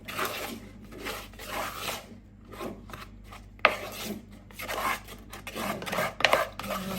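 Chocolate muffin batter stirred in a bowl with repeated rasping scrapes and rubs in an uneven rhythm, close by, with an occasional sharper tap of the utensil.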